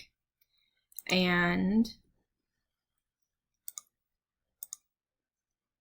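Two pairs of quick, crisp mouse clicks while using voice typing in a Google Doc, close and quiet, following a single short spoken word.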